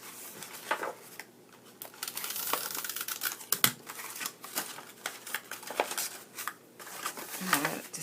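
Paper box ends being folded in by hand for a birthday treat box, giving close crinkly rustles and soft taps in irregular bursts, with faint clinking noises underneath.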